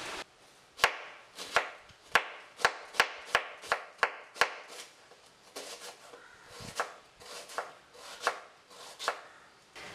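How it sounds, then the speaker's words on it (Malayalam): A kitchen knife chops onion on a cutting board for a prawn and ivy gourd thoran, a quick run of crisp, evenly spaced taps followed by slower, scattered cuts, close and clear with no talk. "അതുപോലെ തന്നെ സവോളയും മുറിച്ചിട്ട്"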